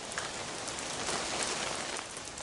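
Rain falls on a roof as a steady, dense hiss of drops with no pauses, fairly close and even throughout.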